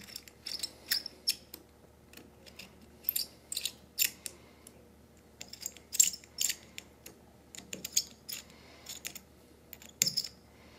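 Small metal screws on a guitar being run down snug with the short end of an Allen key, heard as soft scattered clicks and ratcheting ticks in short bursts, close and quiet with no talking.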